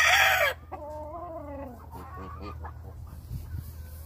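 A lacy roundhead game rooster, pea-combed and pearl-legged, gives a loud close crow, then a run of throaty clucks and warbling calls over a low steady hum.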